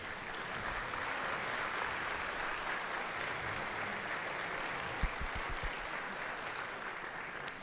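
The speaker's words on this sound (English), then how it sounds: "how about one more round of applause for our 7th grade band?" Steady applause from a concert audience for a 7th grade school band, a sustained moderately distant wash of clapping with a few louder nearby claps and thumps near the end.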